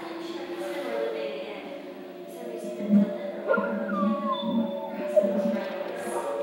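A recorded dog-like howl plays inside an art installation on a gallery tour, starting quietly and then rising and wavering in long tones, with faint voices nearby.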